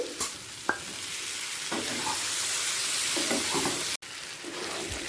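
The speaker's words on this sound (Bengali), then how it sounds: "দু মিনিট মিডিয়াম ফ্লেমে কষানো হয়ে গেছে" Paneer and vegetables sauté over a medium flame, a steady frying hiss broken by a few sharp clicks of a spoon or spatula against the pan and one sudden brief dropout, with no talking.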